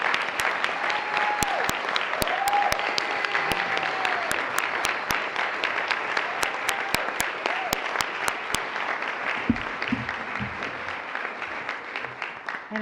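A board meeting audience claps to honour someone's heroism: sustained, dense applause lasting the full stretch with crisp individual claps standing out, loud and close, and a voice briefly audible toward the end.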